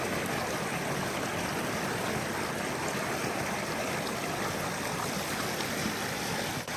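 Cold river water rushes in a steady, dense broadband wash, close and unbroken throughout, with no voices.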